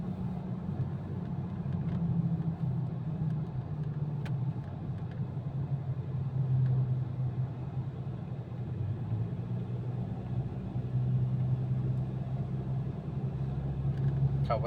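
Pickup truck engine labouring up a rough village road in Thailand, a steady low rumble with shifting pitch that runs the whole time, close and continuous under background noise.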